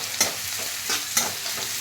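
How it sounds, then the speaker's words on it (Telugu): Onions and green chillies frying in oil in a pan, a gentle steady sizzle with three quick scraping stirs at regular intervals, close and fairly quiet. "కొంచెం ఆయిల్ పోసి ఆనియన్స్ పచ్చిమిర్చి వేసాం"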